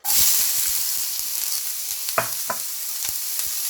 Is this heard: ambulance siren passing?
no